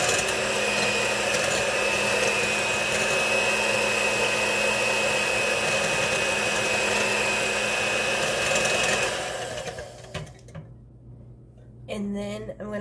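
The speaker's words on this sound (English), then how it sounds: "I'm going to whisk these for a little bit" A whisk beats strawberry bundt cake ingredients in a bowl, a steady loud whirring for about nine seconds, then the noise drops off into quieter clatter and faint talk near the end.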